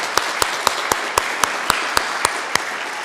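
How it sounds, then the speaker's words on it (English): An audience at a high school pitch competition gives a round of applause, loud dense clapping with a few sharper, evenly spaced claps standing out above the crowd. "So can we have a round of applause?"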